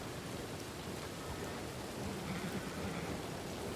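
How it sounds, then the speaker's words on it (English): A roleplay video game storm fills the scene with steady heavy rain and a continuous low thunder rumble, dense and unbroken, with no voices. "You love the sound of the storm that is deafening to everybody?"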